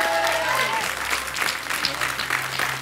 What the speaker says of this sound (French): Applaudissements pour maître Jean-Pierre Régnier, s'il vous plaît